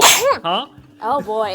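A sneeze bursts out at the start during a chatty gaming podcast, loud and close, followed by several people talking.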